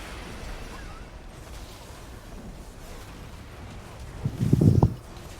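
In World of Warcraft, after several seconds of low, quiet rumble, a single deep cannon boom bursts out near the end and quickly fades.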